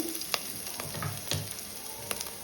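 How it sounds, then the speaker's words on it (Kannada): Green chillies fry in an oiled pan while cooking brinjal drumstick sambar, giving a soft, steady sizzle broken by a few sharp pops and light stirring scrapes, close and fairly quiet. "ಎರಡು ಮೂರು ಹಸಿಮೆಣಸಿನಕಾಯಿ ಹಾಕೊಳ್ತಿದ್ದೇನೆ ಇದು ಫ್ರೈ ಆಗಿದೆ"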